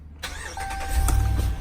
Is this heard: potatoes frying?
no